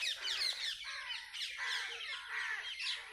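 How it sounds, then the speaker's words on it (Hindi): Birds, crows among them, caw and chirp at sunset over village fields on the outskirts, a dense overlapping chorus of calls that is steady and moderately loud. "ये जो पक्षी चहचहा रहे हैं उनकी एक रिकॉर्ड करूँ।"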